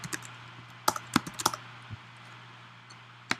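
Code typed on a computer keyboard: clusters of crisp close key clicks in short bursts with pauses between, over a low steady hum.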